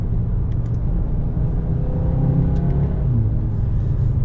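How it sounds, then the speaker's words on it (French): The engine and exhaust of a 2021 Audi S3 sedan give a deep, steady rumble as it accelerates, with the tone rising gradually as it is heard from inside the car. "Avec un joli bruit au niveau des pots."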